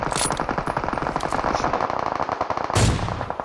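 Rapid automatic gunfire from PUBG Mobile, Erangel map in first-person mode, rattles in dense continuous bursts for several seconds, loud and close with a brief heavier blast near the end.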